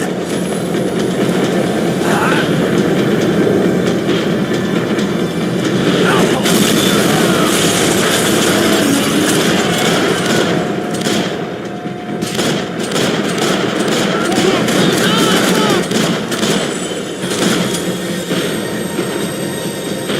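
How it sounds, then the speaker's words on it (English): A tram rolls and slows in Max Payne 3, a loud, sustained rumble of wheels and rattling carriage with metallic squeals, mixed with bursts of gunfire throughout. "The tram was slowing down, and I'd only just gotten on board."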